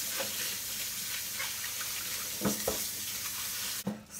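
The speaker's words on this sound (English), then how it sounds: "I do like to rinse it under the water anyway to get some stuff out." Broccoli rabe is rinsed under a running kitchen tap, a steady hiss of flowing water with a few soft splashes and thumps as the leafy stalks are moved in the stream, close and continuous with no talking.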